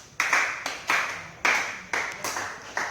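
A church congregation claps together in worship, producing loud, sharp bursts of applause that arrive in a steady rhythm of about six beats, each ringing briefly in the hall.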